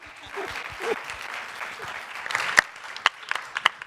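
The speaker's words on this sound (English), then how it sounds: "Give them a round of applause." Audience applause at a school health presentation: a fairly soft, diffuse patter of clapping with a few sharper, louder claps standing out toward the end.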